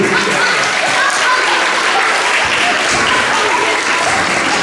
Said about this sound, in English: one last massive round of applause for the hip-hop group